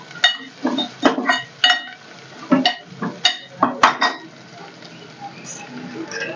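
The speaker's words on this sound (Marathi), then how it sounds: "आता किंचितची हळद टाकून घेऊया आणि व्यवस्थित मिक्स करून घेऊया" A spoon scraping and clinking against a metal pan while turmeric is stirred into a mixture for a traditional Satara urad dal ghute, a rhythmic series of close, distinct strokes that slow and fade toward the end.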